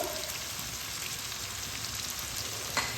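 Chicken with spice paste being fried in a pan for a cabbage chicken curry, giving a steady, even sizzle throughout with no one talking.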